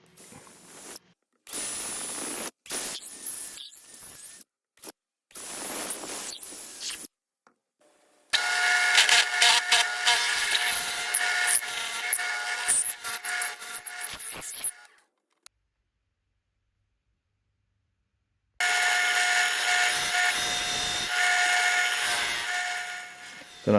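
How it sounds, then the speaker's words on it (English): A power drill whines in long bursts as it bores into maple wood, widening holes in a channel, stopping and starting with short pauses and a silent gap, no voices. "So now I'm drilling the holes bigger in the channel that I made in the back."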